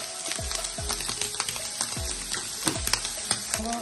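Ingredients for kothu dosa sauté in a hot pan, a steady close sizzle broken by rapid rhythmic metal scraping and clanks of a spatula stirring and chopping, with no talk.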